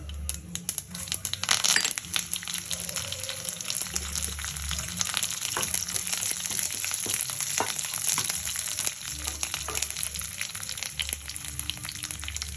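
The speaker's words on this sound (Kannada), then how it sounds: "ಹಾಕ್ತಾ ಇದ್ದೀನಿ ಸಾಸಿವೆ ಚಿಕ್ಕದ್ಮೇಲೆ ಕರಿಬೇವು ಒಣಮೆಣಸಿನ್ಕಾಯಿ ಇದ್ದೀನಿ" Mustard seeds, curry leaves and dried red chillies sizzle and crackle in hot oil as a tempering for garlic chutney, with steady frying hiss and scattered sharp pops up close.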